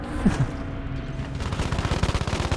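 Sustained machine gun fire in Battlefield V, a long rapid burst of evenly spaced shots growing louder and denser toward the end, over a rumbling battlefield background.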